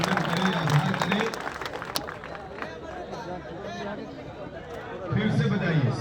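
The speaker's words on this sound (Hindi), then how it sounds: "हम सभी एक बार जोरदार ताली बजा के अपने विस्तार को धन्यवाद करें" A crowd claps and cheers loudly at an outdoor Bihar election farewell gathering in Madhuban. The applause is dense and steady throughout, swelling near the start and end, with chatter mixed in.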